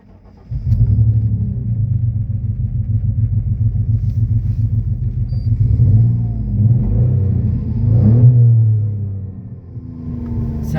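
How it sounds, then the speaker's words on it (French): A Citroën XM V6 24 engine starts up and settles into a loud, close idle. It then revs up in a few rising and falling surges, with a deep, rumbling tone throughout. "Voilà, démarrage du véhicule."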